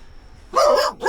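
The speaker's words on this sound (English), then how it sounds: "Full of dogs and barking animals" Dogs barking in a residential housing area, a burst of several loud, close yips and barks after a short quieter lead-in, then one more bark at the end.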